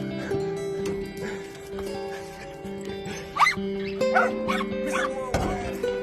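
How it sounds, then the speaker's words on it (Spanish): Dogs bark in several short, scattered yips and barks over a steady background of music tones, fairly faint and mixed with other noise. "Vale, todo el mundo a ladrar, todo el mundo a ladrar."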